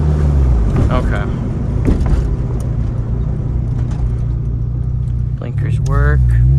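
A car engine pulls in fifth gear at 50, a constant low rumbling drone inside the cabin that runs beneath someone talking loudly and close.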